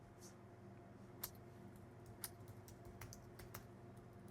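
Computer keyboard typing as a password is entered during an Exchange Server setup: soft, irregular clicks and a few sharper key taps over a steady low hum, fairly quiet.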